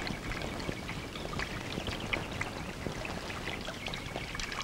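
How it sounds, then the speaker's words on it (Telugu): Water poured from a bucket in a bathroom, a steady rushing splash that runs continuously and fairly close, with no voices over it. "ఆ తర్వాత బకెట్ నీళ్లు కొట్టు"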